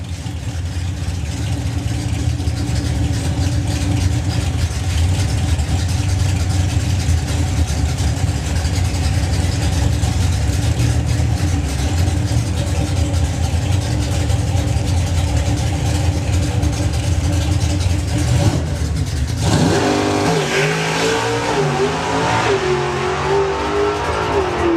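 A hot rod drag racing car roars at full power off the start line at the NSRA Hot Rod Drags, a loud, steady, close engine blast that shifts in tone near the end.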